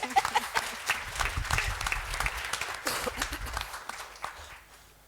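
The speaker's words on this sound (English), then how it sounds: "Let's give us a round of applause." An audience at a national budget event claps together in a moderately distant round of applause, uneven and fading toward the end.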